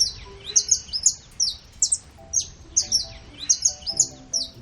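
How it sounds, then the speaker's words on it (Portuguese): A saffron finch (canário da terra, Sicalis flaveola) sings in quick bursts of sharp, high chirps and trills, repeated in close succession and heard clearly over faint low background tones. "Dono da vocalização é o canário da terra, uma ave que chama a atenção pela beleza e pelo canto melódico"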